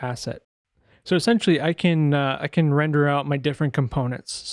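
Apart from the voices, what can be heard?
None of the usual background noises is heard.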